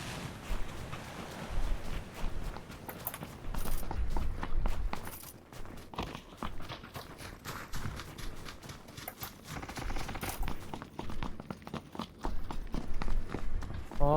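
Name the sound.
footsteps in video game PUBG (Battlegrounds)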